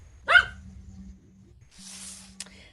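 A single sharp dog bark from a video played during a talk about diets and health, followed by a soft hissing noise and a faint click over a quiet low hum.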